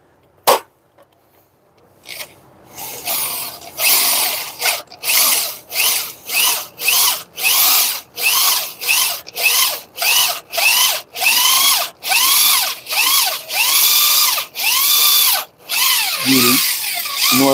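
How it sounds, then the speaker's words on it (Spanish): Power drill with a 1/4 inch bit boring out a broken wheel stud in a Spicer artillery-type hub, running in steady bursts with brief pauses between them, loud and close with no talk. "Vamos ahora a perforar con broca de 1/4"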